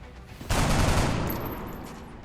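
Burst of gunfire in the X-COM: Enemy Within video game, a sudden loud volley at about half a second that rings out and slowly decays with a dense, rattling tail, with no talk over it.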